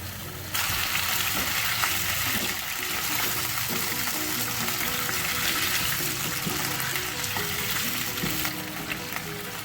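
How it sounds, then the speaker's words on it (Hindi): Chicken sizzles and fries loudly in a hot pan, a dense continuous crackle with occasional stirring, no voices. "गोश्त को जब फ्राई करेंगे"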